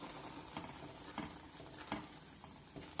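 Ghee is added to besan cooking for Mysore Pak, a quiet bubbling sizzle with soft periodic stirring scrapes about every half second, close and faint.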